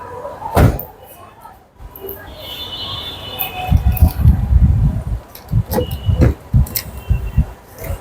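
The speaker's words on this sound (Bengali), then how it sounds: "আমি একটু গাড়ির ব্যাকডাটা খুলে দেখাচ্ছি" Trunk lid of a CNG-converted Toyota Corolla G is opened and shut, giving a loud sharp latch clunk near the start, then a burst of rattling, thudding handling noises, with faint talk in the background.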